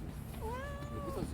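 A cat named Lui gives a single drawn-out meow, clear and rising then falling, heard fairly faintly over a low outdoor background hum on the way to Dong-baek Lake Park.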